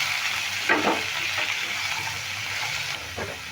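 Potato and carrot pieces frying together in a pan, a continuous bright sizzle up close with occasional soft scrapes and clinks of a spatula turning them.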